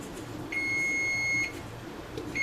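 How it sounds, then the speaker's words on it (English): A single steady electronic beep from a kitchen timer holds for about a second, then short repeated bleeps begin, over a quiet room background. "And of course my timer is gonna go off right now."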